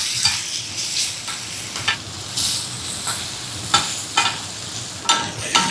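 Green chilies, onion and tomato frying in a little oil, a steady soft sizzle broken by repeated scraping stirs of a spoon in the pan, close and clear with no talking.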